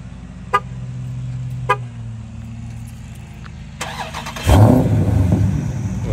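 A low idle-like rumble with a few sharp clicks, then a Dodge Charger Scat Pack 392 V8 bursts to life with a loud, deep roar that keeps running to the end.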